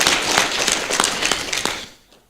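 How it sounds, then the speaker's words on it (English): A small audience at a council candidate forum breaks into brief, scattered clapping, with loose individual claps over a couple of seconds that thin out and fade. "Please someone clap right on that."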